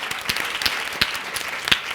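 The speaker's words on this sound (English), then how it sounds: "Round of applause for Cristelle!" Steady audience applause at a client success panel, an even wash of many hands clapping with a few sharper claps and whoops standing out.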